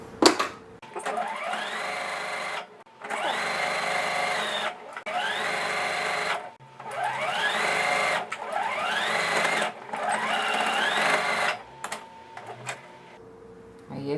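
A sewing machine stitches a giraffe-themed nursing pillow in five or six steady whirring runs, each a few seconds long and rising briefly in pitch as it speeds up, separated by short pauses, close and without talk.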